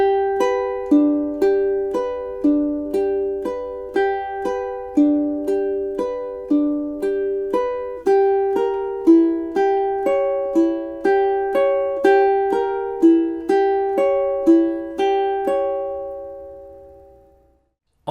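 A classical ukulele plays Bach's Prelude in C as a steady solo stream of plucked, ringing arpeggiated notes in an even rhythm, close and clear, fading into silence at the very end with no talking.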